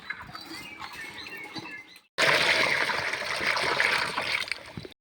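Water from a well splashes and pours as buckets are drawn up: soft trickling and birdsong at first, then after a short silence a louder, continuous gushing splash close by.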